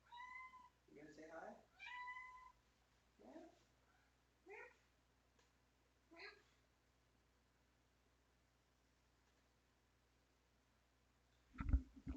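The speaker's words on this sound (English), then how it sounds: "She's meowing at the door." A cat meows several times at a door in short, rising calls, faint and a little distant, with long quiet gaps and a louder bump near the end.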